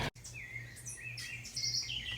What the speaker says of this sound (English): Taking a video of this bird.